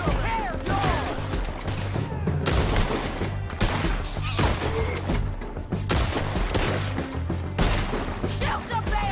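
Dense, loud gunfire from a Red Dead Redemption 2 shootout, with overlapping rifle and pistol shots cracking in rapid irregular bursts throughout, under occasional shouting voices.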